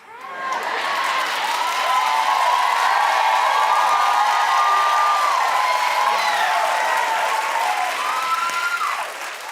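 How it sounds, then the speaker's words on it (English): A studio audience bursts into sustained applause mixed with cheering and whoops, rising quickly and holding loud and dense for several seconds before easing slightly at the end. "We're the crowd. And if we make noise, and we have made noise."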